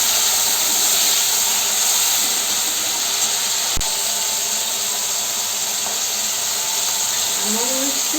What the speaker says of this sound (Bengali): এটা একটু তেলের সাথে ভেজে নিচ্ছি লঙ্কাটা